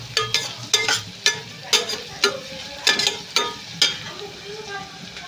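Chili powder, masala, coriander powder and salt fry in a pan while a spoon stirs them, making a close sizzle broken by a regular run of sharp scraping taps.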